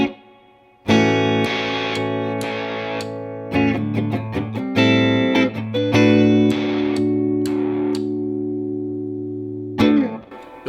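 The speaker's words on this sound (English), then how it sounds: "You can also do momentary bursts of sound." Electric guitar through a Foxcatcher V2 pedal switched for momentary bursts: loud distorted chords start abruptly, hold and ring, with quick chopped notes and a fresh burst near the end.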